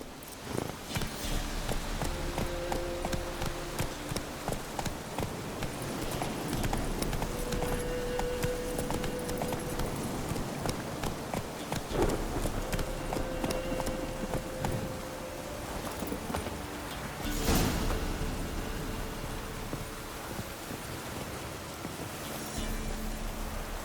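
Horse hooves clip-clop at a steady walking rhythm while riding in The Witcher 3, continuous and fairly close under game music and ambience, with no talk.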